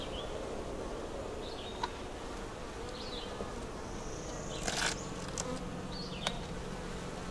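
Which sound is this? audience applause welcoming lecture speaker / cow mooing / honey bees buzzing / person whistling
honey bees buzzing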